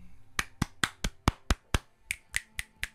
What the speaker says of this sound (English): Clap, clap, snap, snap.